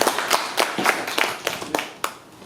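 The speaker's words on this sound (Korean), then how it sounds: "우리 박수 한번 주시죠" A small audience at a community meeting about a coal power plant claps: a handful of sharp, fairly close hand claps with uneven spacing that thin out and fade toward the end, with no talking.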